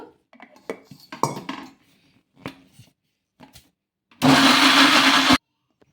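A few scattered clinks and knocks, then a mixer grinder whirs loudly for just over a second before cutting off abruptly while blending coconut idli batter with buttermilk.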